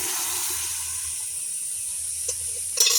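A steady frying hiss from jute leaves in a pan runs throughout, then a sharp sizzling burst near the end as cooked masoor dal is poured in.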